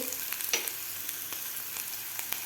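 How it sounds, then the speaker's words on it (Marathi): Onion and yellow capsicum sautéing in a pan, a soft, even sizzle with a few light stirring taps and scrapes close by, no talking. "एक मिनिटभर आपल्याला कांदा परतून घ्यायचा आहे"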